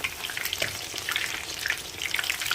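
Breaded chicken schnitzel fries in oil with a busy, close sizzle peppered with small bright pops and crackles, steady throughout and free of voices.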